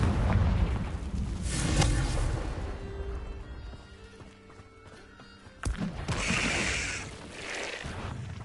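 A Confringo blast spell in Hogwarts Legacy booms loudly, with a rumbling explosive roar that fades. A second sharp burst cracks near the end.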